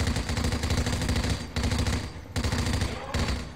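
Rapid automatic gunfire from a video game shooter rattles in long continuous bursts at an enemy, loud and close, with brief pauses between volleys.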